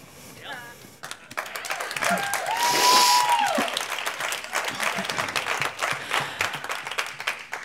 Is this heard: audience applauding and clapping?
yes